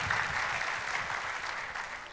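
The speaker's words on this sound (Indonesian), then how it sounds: "So let's give her another round of applause." A church congregation applauds an evening testimony, giving a steady round of clapping that carries at an even, moderate level throughout.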